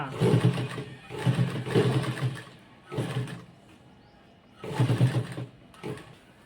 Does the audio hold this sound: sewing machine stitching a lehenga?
yes